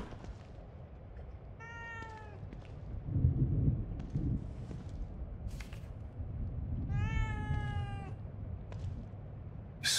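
Two clear, drawn-out cat meows about five seconds apart, heard in the survival horror game The Evil Within 2 over a low rumbling ambient backdrop with brief thuds.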